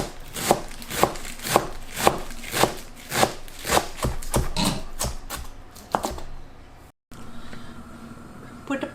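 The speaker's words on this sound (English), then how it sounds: "Chop the spinach roughly." Spinach roughly chopped with a knife on a board for a pumpkin bread filling: a dozen or so crisp, evenly spaced close-up strokes, then the chopping stops and only quiet room noise remains.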